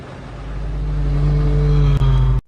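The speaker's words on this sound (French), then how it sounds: "Le son perçu par la jeune femme, émis par le moteur du véhicule, est une manifestation de l'effet Doppler" A car engine swells as the vehicle approaches, its pitch sliding downward as it passes close by, then the sound cuts off abruptly.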